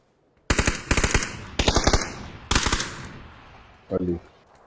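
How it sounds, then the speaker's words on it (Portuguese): Loud automatic gunfire in the video game PUBG, three quick bursts of rapid shots close together, then a brief spoken phrase right after. "tive que atirar primeiro, mano."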